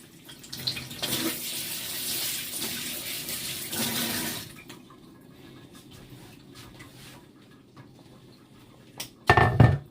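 Tap water runs into a kitchen sink while a spoon is rinsed during water yam porridge cooking, a steady close splashing that eases off midway, ending with a few sharp knocks of the utensil.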